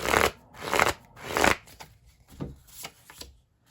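Tarot cards are riffled and shuffled in three quick bursts, then drawn with softer slides and flicks, close and crisp with no talking.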